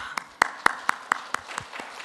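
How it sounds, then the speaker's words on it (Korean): A church congregation claps in a steady rhythm, about a dozen distinct sharp claps spaced evenly, close and clear with no talk over them. "박수 한번 쳐주세요."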